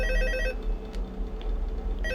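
A telephone rings in Five Nights at Freddy's 2, a bright electronic trill that sounds loudly at the start, pauses to a low background hum, then begins again at the end.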